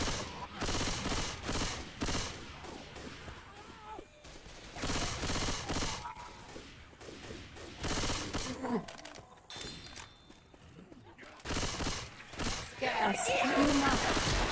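Bursts of gunfire in the video game Left 4 Dead 2 come in rapid volleys separated by short lulls, with voices talking over the action.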